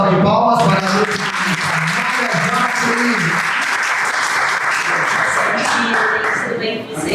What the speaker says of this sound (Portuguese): uma salva de palmas para a